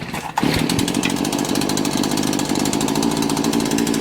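A gas weed eater fires after a quick pull start and settles into a steady, buzzing two-stroke drone, loud and close, with the engine running continuously for several seconds.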